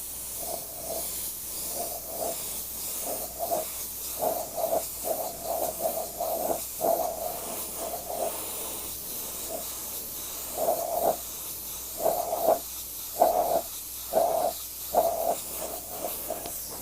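An Eclipse CS airbrush fitted with a 0.5 mm needle sprays paint in a string of short, close hissing bursts with brief pauses between them, with no talking.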